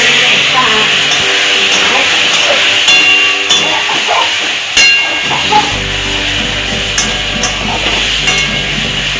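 A hot pan of aloo dum sizzles and hisses steadily as water goes in, with a loud close spatter and a few clinks of utensils, and a person talks over it.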